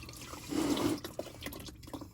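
Engine oil drains from a Pontiac G6 GT with a 3.5 V6, a soft, steady liquid trickle and drip, fairly close and quiet, with no talking.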